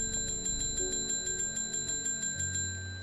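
A small bell rings repeatedly in Strange Horticulture, struck about four times per second with bright, even pulses over a low ambient music bed.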